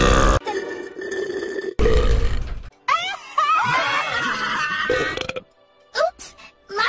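Cartoon female characters burp in a run of loud, drawn-out belches with short pauses between them, followed by voiced grunts and groans that rise and fall.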